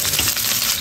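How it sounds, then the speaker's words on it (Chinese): Chopped scallions and garlic slices sizzle in hot oil in a wok, a steady, dense crackling hiss, close and fairly loud. "现在上锅炒，倒油，油中下葱花蒜片"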